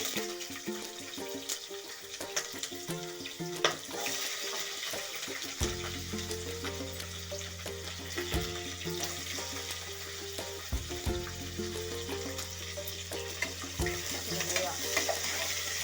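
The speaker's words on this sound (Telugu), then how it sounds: "కొంచెం రెడ్ కలర్లో వచ్చేలా వేయించుకోవాలి." Onions frying in a pan with whole spices such as cinnamon, cloves, cardamom and bay leaves: a steady broadband sizzle throughout, with a constant low hum from about the middle onward.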